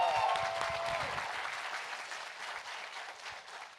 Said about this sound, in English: Can we get one more round of applause for our guest today?